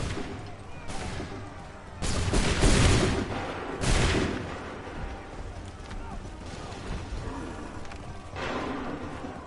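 Musket volleys in Assassin's Creed 3 crack out as a few loud, broad bursts spaced seconds apart, over a background of battlefield clatter and hoofbeats.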